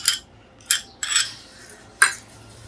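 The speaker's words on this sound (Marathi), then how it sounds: "आता ह्याच्यात घालूया दही" A spoon clinks against a bowl of sabudana while curd is added, four crisp close clinks spaced irregularly over a quiet background.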